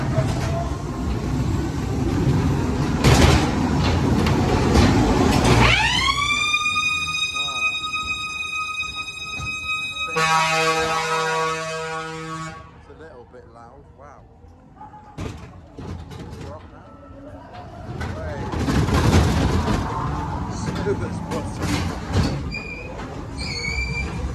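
A ghost train ride car at a funfair rumbles along rails with rising metallic squeals and screeching tones, loud and close, with voices and shouts mixed in.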